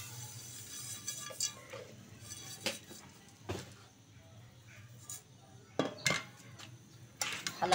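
A spoon scraping and clinking against a pan while sugar is stirred and roasted for masala chai, making irregular metallic taps and clinks close by against a quiet background hum.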